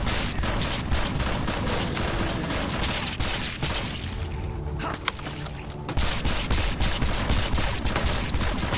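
Rapid, relentless shotgun blasts against enemies in the zombie survival game Night of the Dead, dense repeated bursts filling nearly the whole stretch with only a brief lull in the middle.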